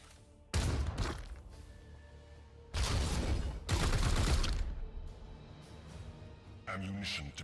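Gunfire bursts in a Warhammer XCOM video game, two long loud volleys of shots followed by a shorter burst, with voices speaking between them.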